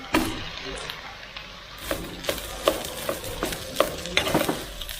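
Rice is stir-fried for nasi goreng in a pan over a low flame, with a soft continuous sizzle under repeated close scraping and tapping strokes of a spatula, in a fairly steady rhythm.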